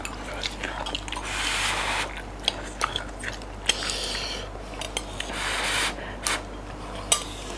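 Close chewing and biting of spicy sausage, with a wet, crunchy mastication texture and several sharper bites scattered through a steady, mouthy background.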